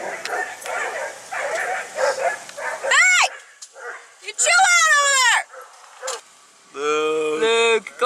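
Dogs close by giving a few sharp barks and high yelping whines in short bursts between stretches of people talking outdoors in Yosemite.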